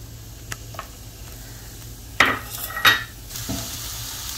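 Chopped onion drops into hot coconut oil in a pan, a couple of sharp sizzling bursts and scraping clatter rising over a low, quiet hiss.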